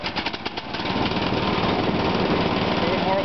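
A trail mower's small engine catches after being started with the choke out at half throttle, settling into a steady, loud drone after some uneven sputters in the first second, close by.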